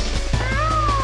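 Cat-like cry of the Nessie monster in the video game Ape Escape, a single drawn-out wavering meow that rises and bends, loud and close over a low game hum.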